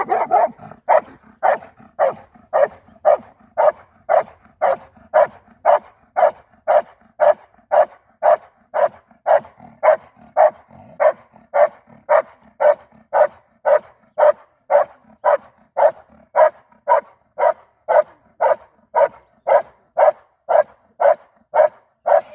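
A dog in a training session barks steadily and loudly, some forty sharp evenly spaced barks about half a second apart, close by with no talking over them.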